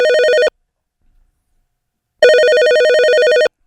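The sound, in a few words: telephone ringing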